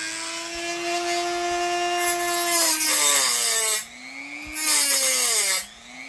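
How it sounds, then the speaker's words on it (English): Dremel rotary tool grinding a knife blade, its whine rising and falling in pitch as the tool surges in power and speed, with harsh abrasive scraping bursts as the bit grabs the steel. "Yeah, this Dremel's having issues. Going up and down in power and speed."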